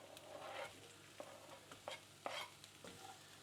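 Onions fry in a little oil in a pan for a budget curry, faint sizzling broken by several short scraping strokes as they are stirred, quiet and close with no speech.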